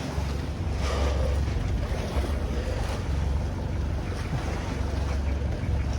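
Small fishing boat out on the open sea, a continuous low engine drone mixed with wind buffeting and the wash of waves, steady throughout with no clear talk.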